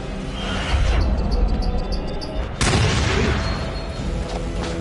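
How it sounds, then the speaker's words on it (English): A gunshot ignites a canister in the horror video game Until Dawn, making a loud booming blast that rises abruptly about midway through and rumbles on over continuous game noise. "you shoot him and it'll blow up the canister"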